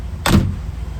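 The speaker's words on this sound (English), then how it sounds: "if I open and close this door again" A car door swinging shut, one short solid thud with a quick rattle of the panel, close and alone.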